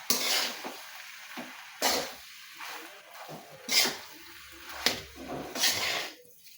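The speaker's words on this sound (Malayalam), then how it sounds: "നന്നായി ഇത് നമുക്ക് ഇളക്കണം." Chicken macaroni is stirred in a large wok: repeated bursts of scraping and tossing with a soft sizzle, about six strokes spaced a second apart, close and fairly quiet.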